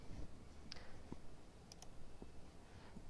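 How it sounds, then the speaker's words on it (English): Sparse, quiet clicks from a computer keyboard as a single letter is typed, a handful of separate taps spread over a few seconds against a low background hum. "and then type your first letter."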